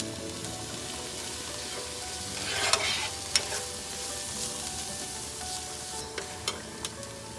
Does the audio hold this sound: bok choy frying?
yes